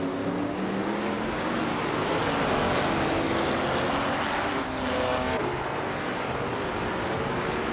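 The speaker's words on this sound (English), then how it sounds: "Hingle McCringleberry has shot off the line to take the lead" Race cars including a 1965 Lotus 40 launching off the starting line, a loud dense roar of several engines rising in pitch as they accelerate away, steady and close throughout with no talk.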